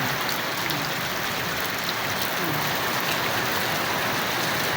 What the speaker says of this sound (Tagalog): Parang ang lakas-lakas ng ulan na kabiday